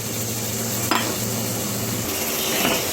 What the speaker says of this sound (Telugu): పెరుగు వేసుకొని బాగా నూనె పైకి తేలే వరకు వేయించుకోవాలి